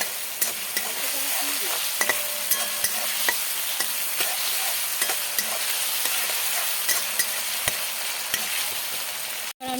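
Masala of cumin and coriander powder sizzles steadily in a pan for a vegetarian potato and soybean curry, while a spoon scrapes and stirs at a regular pace. No one talks.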